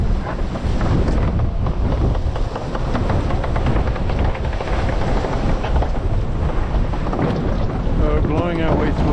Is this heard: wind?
yes